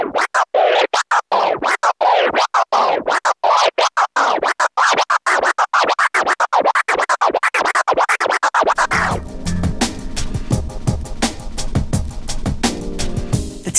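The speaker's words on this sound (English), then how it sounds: "I'll teach you how to do the two-click flare" Rapid, rhythmic two-click flare turntable scratching on a controller, choppy cuts in quick succession for about nine seconds, then a beat with music continues underneath.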